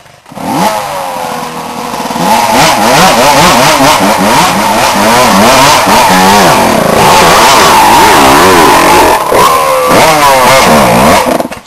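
A Super Neo 31 motorcycle revs hard on an off-road trail, its engine loud and close, rising and falling through repeated throttle bursts with a rough, buzzing tone that holds nearly the whole time.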